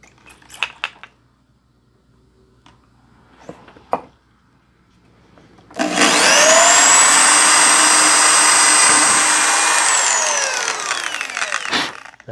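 A handheld power drill bores holes into a DIY guitar body to mount a hardtail bridge, a loud sustained whine for several seconds that winds down, preceded by a few handling knocks and taps.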